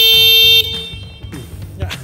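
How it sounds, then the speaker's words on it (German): An e-scooter horn being tested during assembly gives a steady, bright electronic tone at the start, cut off after about half a second, followed by workshop handling noises and low voices. "Ich mache Test von Hupe."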